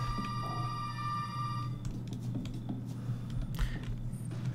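A telephone rings in the Resident Evil 7 video game, a steady electronic ringing tone over a low droning hum that fades partway through, followed by faint clicks and game noise.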